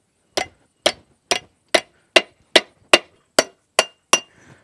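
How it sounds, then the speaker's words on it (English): Ten sharp hammer blows ring out one after another at an even pace, close and loud, as iron is struck over the horn of an anvil to form a bend. "when we're going to put a bend, we're going to use the horn of the anvil here"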